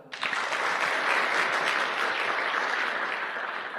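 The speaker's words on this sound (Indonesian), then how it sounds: "Aplaus buat Anda lah" An audience at a networking seminar breaks into applause, a sudden burst of many hands clapping that holds dense and steady for several seconds.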